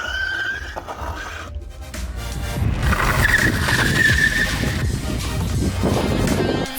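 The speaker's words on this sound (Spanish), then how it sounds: "Frenos hidráulicos con disco de 160 milímetros que clavan el vehículo inmediatamente" A Dualtron X electric scooter with two motors and 160 mm hydraulic disc brakes brakes hard, giving a loud squeal and a rising, scraping roar that sits over a steady rumbling background, with no talking.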